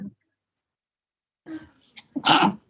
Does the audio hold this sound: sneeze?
yes